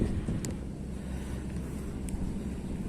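Wind gusts steadily across open water at a mullet fishing spot, a continuous low rumble of microphone buffeting with a faint wash of ambient noise throughout and no talking.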